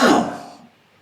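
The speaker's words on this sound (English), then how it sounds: "I got a cough." A single harsh cough from a man in a sports betting studio, one loud throaty burst that fades quickly.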